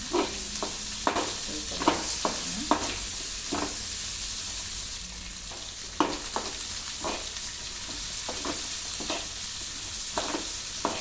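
Ingredients for hotel-style sambar fry in a pan, a constant sizzling hiss broken by repeated scraping and clanking of a stirring spoon, close up with no talking.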